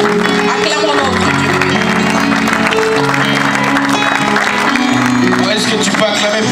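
A church congregation at a Sunday worship service claps and cheers together in a dense, continuous wash of applause mixed with music, loud and steady throughout.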